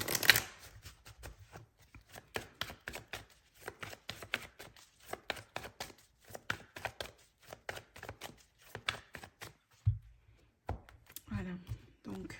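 Tarot cards being shuffled for a reading, repeated soft riffling and slapping in irregular bursts, close and fairly quiet, with a brief thump near the end.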